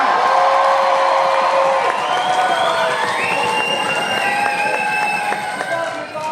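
A festival audience at a circus-versus-Morris contest cheers and whoops loudly for a score of 10, a dense crowd roar with high shouts and whistles held for the whole stretch.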